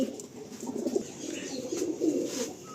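Andhra pigeons, lively male birds, cooing softly in a loft, with low throaty coos rising and falling continuously over faint background noise.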